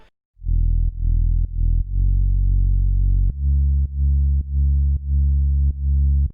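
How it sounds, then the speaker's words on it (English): Deep, smooth sine-wave sub bass synth playing a series of sustained and short notes, each starting with a soft click, loud and isolated. "swapped out the square sub bass in the intro and changed it to a sine wave"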